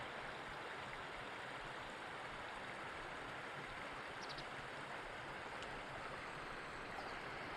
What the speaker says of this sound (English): A little bit of a waterfall feature.